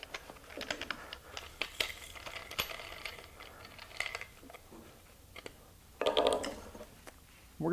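Small metallic clicks, taps and ratcheting rattles from changing the wheel on a Craftsman CMCG450 brushless V20 cordless 4-1/2" angle grinder, close and fairly quiet, with a louder clatter near the end.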